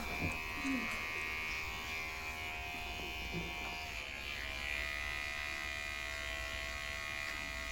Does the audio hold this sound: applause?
no